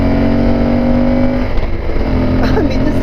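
A motorcycle engine hums steadily at close range while engine braking on a road trip outside the Washington, DC area, its low drone continuous throughout, with someone talking over it.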